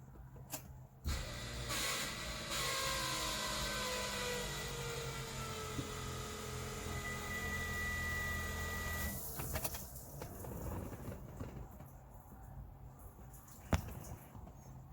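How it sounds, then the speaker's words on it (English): A Crown Vic's fuel pump primes after the key is turned, giving a faint, steady electric whine that runs for about eight seconds and then cuts off, leaving low background noise and a single click. "I guess the first test is to see if this fuel pump turns on"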